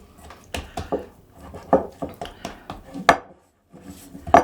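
A ball of pie dough wiped around the inside of a mixing bowl, making a series of uneven knocks, bumps and short scrapes against the bowl at close range.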